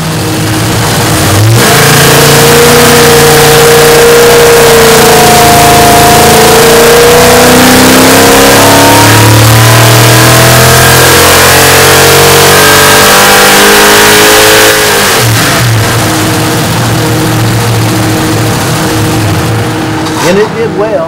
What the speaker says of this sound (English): We tested the carb engine with two different carburetor options.